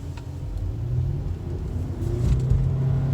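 A 2018 Lexus NX 300h hybrid crossover rolls along a road, its low engine and tire rumble steady and close as it picks up a little speed, with no talking.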